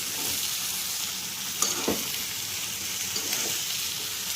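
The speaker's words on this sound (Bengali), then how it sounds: "টমেটো আর কাঁচা লঙ্কা এই দুটোকে আমি দিয়ে দিলাম। দিয়ে বেশ খানিকক্ষণ কষতে হবে।" Chopped tomatoes and green chillies stir-fried in a pan, with a close, steady sizzle broken by a few scraping stirs of the spatula, and no talking.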